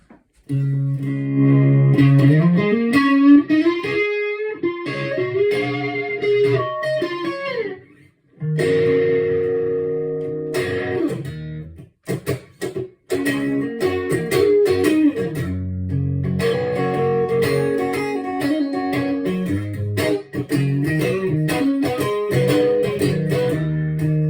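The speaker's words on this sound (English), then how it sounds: "There's no difference in quality to a blues driver or a blues driver Waza craft pedal." Electric guitar through a Boss BD-2W Waza Craft Blues Driver pedal, gain at 11 o'clock, with a warm overdriven tone plays bluesy chords and single-note licks, loud and close, with brief pauses between phrases.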